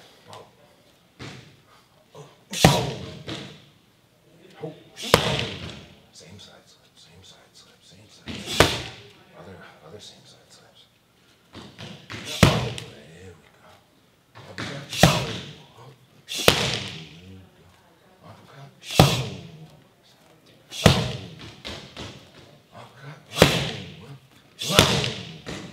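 Hooks and uppercuts thumping into striking pads during Muay Thai and boxing training, landing as loud, close, evenly spaced heavy thuds every couple of seconds over a quieter background.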